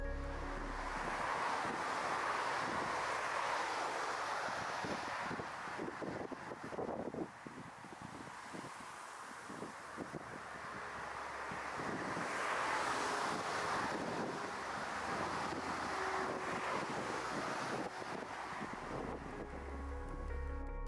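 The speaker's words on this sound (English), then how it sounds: "powerful crosswinds brought on by Cyclone Xavier smashed into the plane" Strong crosswind from Cyclone Xavier buffets an airplane as it lands, heard as continuous loud roaring wind rumbling against the microphone, rising and falling throughout.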